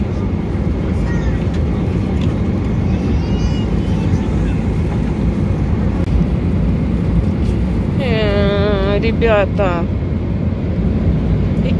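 A steady, loud cabin roar fills a passenger flight from Sydney to Almaty during turbulence, continuous throughout, with a voice speaking briefly over it.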